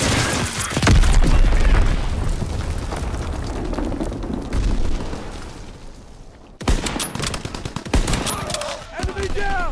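Gunfire and an incoming enemy bomb in a WWII video game: loud, continuous bursts of shooting and heavy booms, with a sharp cutoff followed by more scattered shots and whistling tones.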